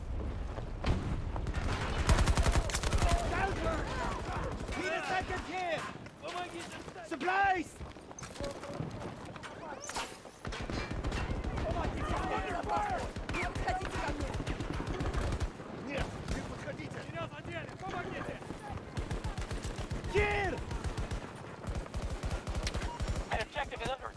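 Rapid SMG gunfire in the video game Battlefield 2042, bursts of shots at close range mixed with game sounds, heard under a player's ongoing talk.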